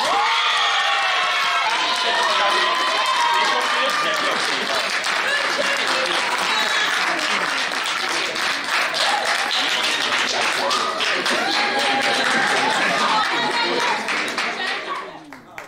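Applause from an audience at the Tiiga d'Or awards ceremony, dense and sustained for about fifteen seconds with cheering mixed in, fading at the end; a voice speaks over the clapping at times.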